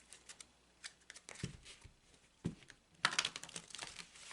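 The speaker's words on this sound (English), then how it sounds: "I'm going to take a few moments to shuffle the deck." Tarot deck being shuffled on a table, soft quiet riffles and papery card flicks in irregular bursts, growing busier toward the end.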